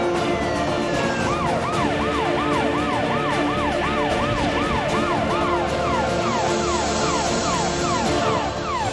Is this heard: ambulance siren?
yes